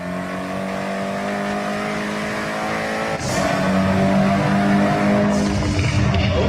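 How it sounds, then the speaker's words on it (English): Car engines from a Forza Horizon game trailer, a steady mechanical drone that swells into a louder, rising rev around midway, with a sharp burst near the end, no voices. "Our cars sound better than ever, with greater detail and remastered audio"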